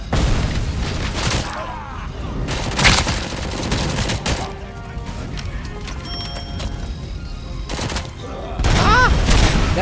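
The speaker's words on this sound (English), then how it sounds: "That's it with the SMG?" Rapid SMG gunfire in a video game rattles in loud bursts, with sharp booming impacts and a clattering crash near the end, dense and close throughout.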